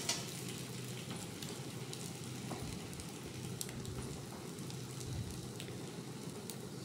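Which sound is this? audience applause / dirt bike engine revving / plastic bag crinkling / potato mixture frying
potato mixture frying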